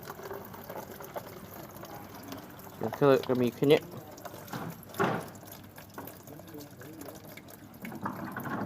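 Coolant water drains out of the radiator of a Mitsubishi E-Car with a 4G15 engine: a short burst of splashing, gushing flow followed by a brief spurt, heard up close while someone talks nearby.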